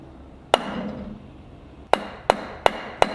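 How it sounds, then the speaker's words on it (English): A hammer drives at a stuck, mushroomed pin in the nut of a Prentiss No. 22 vise: one sharp metallic strike, a pause, then four quick blows in steady rhythm, close and loud. "so we're gonna hammer it out"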